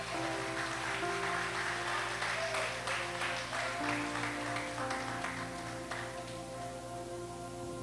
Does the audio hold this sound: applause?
yes